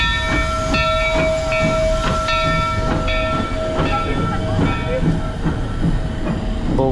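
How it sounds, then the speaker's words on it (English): A large full-size train at Knott's Berry Farm rumbles past close by, with rhythmic clacking of wheels over rail joints and a steady metallic hiss throughout. "Here comes the Knott's Farm train. It's absolutely massive."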